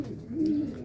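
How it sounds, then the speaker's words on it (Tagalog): Racing pigeons at a loft during a sprint race, a single low, rounded coo close by that swells and fades within a second, alone without talking. "So parating na yung mga ibon yan"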